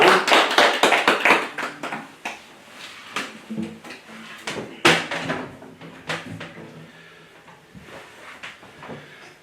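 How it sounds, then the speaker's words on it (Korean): A church congregation clapping together at a New Year's Eve service, a dense burst of hand claps that thins into scattered claps and fades over several seconds. "하나님께 영광의 박수를 올려드리겠습니다."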